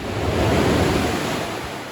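Rushing sea water surging into a small coastal cave, a broad steady roar with wind buffeting the microphone and no voices.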